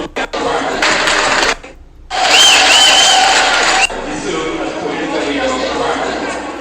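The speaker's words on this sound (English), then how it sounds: "what are you clapping for?" A crowd at a political election gathering breaks into bursts of clapping and cheering, dense, loud noise swelling in waves with a short lull, while a voice talks over it.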